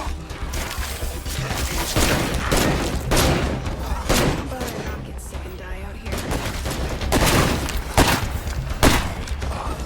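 Rapid bursts of gunfire from the video game State of Decay 2, repeated loud shots clustered through the stretch over a constant low game background, with a voice talking in between.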